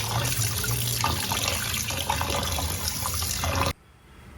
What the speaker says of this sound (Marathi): तुकडे पाण्याने तीन ते चार वेळा स्वच्छ धुवून घेतले